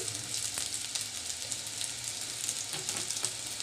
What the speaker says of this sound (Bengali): এখন মাঝখানে আমি আরেকটু তেল গরম করে নিচ্ছি